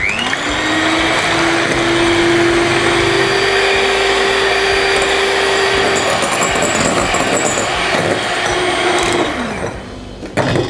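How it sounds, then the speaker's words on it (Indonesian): Electric mixer whipping egg whites to stiff peaks for a pandan coconut sponge cake; a loud, steady motor whine runs continuously, then slows and cuts off near the end, with no talking. "Selanjutnya kita mau kocok putih telurnya sampai kaku."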